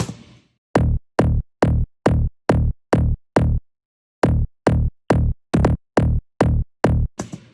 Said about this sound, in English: So the second drop, the bass sounds like this.